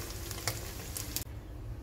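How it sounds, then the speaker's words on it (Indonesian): Tofu batter spoonfuls frying in hot oil give a steady dense sizzle throughout, with a few brief louder crackles and a short dip near the middle. "Lanjutkan menggoreng,"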